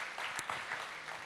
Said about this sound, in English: Please give yourselves a massive round of applause for building this